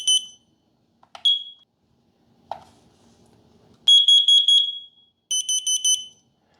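Kidde carbon monoxide detectors sound on test: a few short high beeps, a button click and faint handling, then a loud bright run of rapid pulsed beeps followed by a second burst of four quick beeps.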